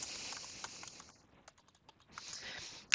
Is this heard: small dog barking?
no